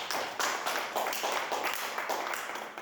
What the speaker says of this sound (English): Big move, applause to Papa.